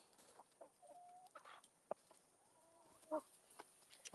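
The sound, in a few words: chickens clucking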